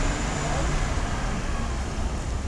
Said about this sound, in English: Got a bus right there.